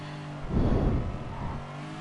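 A race car in the GTSA video game brakes and shifts down to second gear, with a close engine roar that swells for about half a second and then drops back to a steady, quieter drone.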